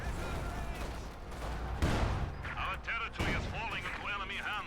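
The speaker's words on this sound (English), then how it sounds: "Keep bombarding here." Artillery bombardment and gunfire in the Company of Heroes 2 strategy game, a dense continuous wash of explosions and shots with a few sharper blasts, mixed under a commentator's voice.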